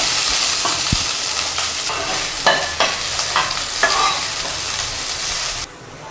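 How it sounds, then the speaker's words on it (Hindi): Chopped okra (bhindi) frying and being stirred in a pan, with a steady loud sizzle and scraping stir strokes throughout, no talking, and a sudden drop in level near the end. "अब हम इसमें डालेंगे कटा हुआ भिंडी। भिंडी को अच्छे से फ्राई कर लेंगे हम।"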